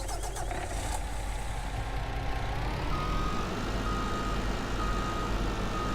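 A MAN 33 414 6x6 truck in Farming Simulator 19 runs with a steady, continuous engine drone that carries on throughout, with faint high beeping early on and a sustained tone joining partway through.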